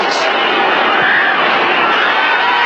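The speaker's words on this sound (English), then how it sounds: "The crowd in disbelief here in Cincinnati." A stadium crowd in Cincinnati roars steadily after the 49ers' winning point after against the Bengals, a dense, loud wash of cheering that holds throughout without a break.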